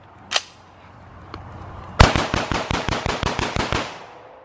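A shotgun with a binary trigger fires a fast burst of about a dozen rapid, evenly spaced shots after a couple of isolated earlier pops, moderately close.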